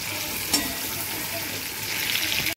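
Tomatoes sauté gently in a pan over a low flame for a bitter gourd curry, giving a steady close sizzle with a brief clatter of stirring early on and a short cutoff at the end.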